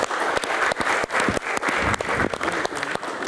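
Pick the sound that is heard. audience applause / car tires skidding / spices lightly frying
audience applause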